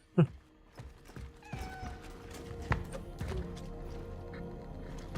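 A cat meows in a horror video game, one sharp close cry at the start followed by fainter rustles and low ambient sounds.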